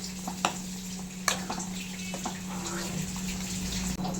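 Water pours from a jar into a pot of drumstick and mutton curry, a steady soft trickle and splash with a low hum underneath, lasting several seconds without talk.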